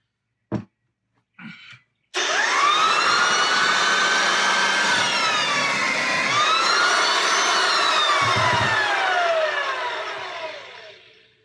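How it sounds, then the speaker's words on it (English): An American Sanders B2+ floor edger running on sandpaper: a couple of short clunks, then the motor spins up into a loud sustained whine with sweeping pitch shifts and a grinding rasp, fading slightly near the end. "I'm going to run this to see my initial cut."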